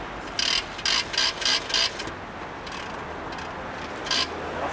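A charging cable is pulled from an Autolib' electric car charging station in Paris, giving a run of five quick ratcheting mechanical clicks followed by a single later click, close and fairly crisp over steady street background.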